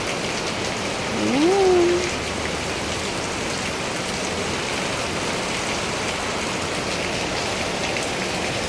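Heavy rain from a typhoon pours steadily as dense hiss close by, with a brief voice speaking near the start.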